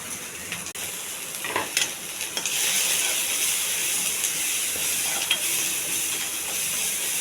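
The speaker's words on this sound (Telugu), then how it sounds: "ఇవన్నీ కొద్ది దోరగా వేగెట్టాలి మాడకుండా" Black-eyed peas fry in a pan with a bright, continuous close sizzle and hiss, broken by a few scraping stirs early on before the frying settles into a steady sound.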